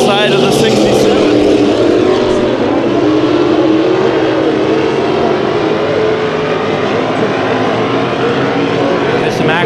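Dirt track modified race cars roar around Kings Speedway during a Dirt Nationals heat race, a loud, continuous engine drone with steady high-pitched whine throughout.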